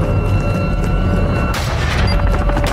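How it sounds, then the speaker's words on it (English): A video game explosive charge detonates about halfway in, a loud broad boom bursting over a steady rumbling battle bed and continuing as crackling blast noise to the end. "Hold the perimeter until detonation."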